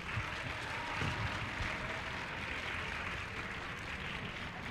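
Steady applause from a sizable audience at a high school concert, a dense even patter of clapping that holds at a constant level without a break.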